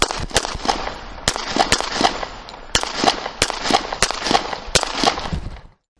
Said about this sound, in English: the footage showing multiple shots fired from Officer Kevin Davis